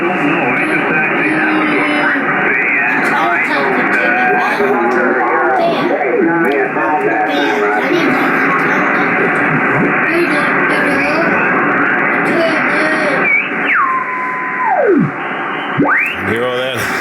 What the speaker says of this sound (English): Oh, the radio. We got somebody in here already.